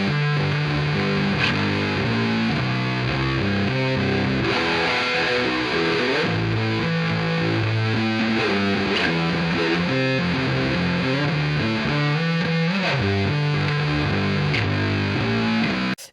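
A heavily distorted, thick bass guitar plays a song as a dense, loud, unbroken stream of fuzzy notes with effects, running the whole stretch alone.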